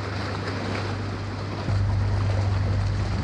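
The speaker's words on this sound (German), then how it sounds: "hier schlagen natürlich die Wellen immer wieder zurück." Waves slap back against the hull of a boat cruising in Holland, a steady broadband wash with wind rumble that grows heavier and lower partway through, with no talking.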